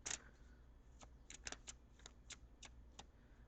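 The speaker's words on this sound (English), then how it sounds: "I'm going to shuffle the cards for just a few more seconds." Tarot cards riffle and snap in a series of quick, crisp bursts, close and fairly quiet, with short pauses between shuffles.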